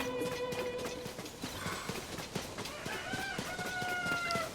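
Chickens cluck and a rooster crows in the video game Zelda: Tears of the Kingdom amid light hoof clip-clops and soft ambient tones, fairly quiet with no voices.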